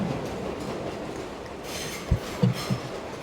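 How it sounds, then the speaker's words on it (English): A heavy goods train rumbles steadily along the rails under a constant low roar, with three or four sharp wheel clacks punctuating the last second or so. "she clattered on down the tracks."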